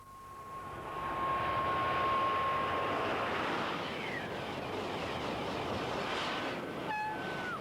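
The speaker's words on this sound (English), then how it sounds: "This is the world's fastest train, the French TGV." A French TGV high-speed train roars past, building to a loud rushing wind with a steady whining tone that fades out, then a brief horn-like tone near the end.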